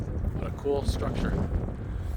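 Wind gusts through downtown Halifax, Nova Scotia, on a cold day with wet snow flurries, a steady low rumbling roar buffeting the microphone, with a faint voice-like murmur underneath.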